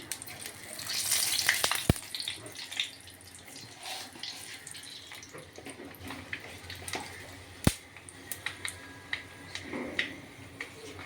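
Panch phoron spices crackle and sizzle in hot oil for an Assamese fish curry with bhedai lota and manimuni, a steady close hiss with scattered pops and a few sharp clinks.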